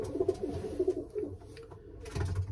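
Racing pigeons coo softly in a loft at breeding season, a few low, throaty, repeated calls close by under faint background noise.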